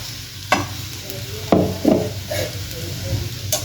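A spoon stirs sabudana khichdi with salt and peanut powder in a pan, giving several distinct scraping strokes with a soft sizzle underneath, close and fairly loud.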